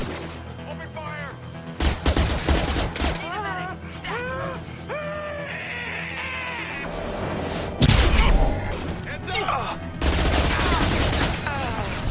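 Gunfire crackles in a firefight in the video game Mass Effect 2: loud, dense bursts of automatic shots that repeat across the scene, mixed with shouted voices and groans.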